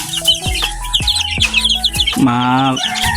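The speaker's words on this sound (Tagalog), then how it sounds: "Ayan mga breeder, yung mga sisiw natin." Young chicks peep and cheep close by in quick, repeated high calls, with a louder, longer squawk near the end.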